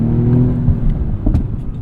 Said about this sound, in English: You know you gotta have some big brakes.